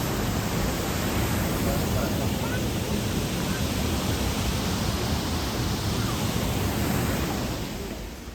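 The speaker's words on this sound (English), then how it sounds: "there's just more and more waterfalls" Constant roaring rush of waterfalls in the rocky gorge of Watkins Glen State Park, a dense, steady, loud wash of falling water that fills the whole clip without letup.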